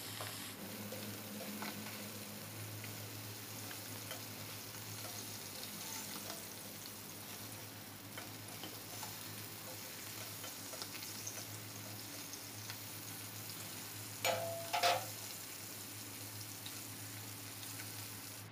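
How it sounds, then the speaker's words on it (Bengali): Fish frying in oil in a wok, Odisha-style ilish (hilsa) and bhola fish, a steady low sizzle running throughout with faint stirring and a couple of brief clatters near the end. "মাছগুলো ভাজা হয়েছে"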